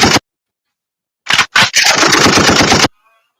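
A gunshot sound effect played loud and close: a short sharp burst, a pause, then two quick blasts running into a rapid, steady string of shots like automatic fire, ending abruptly.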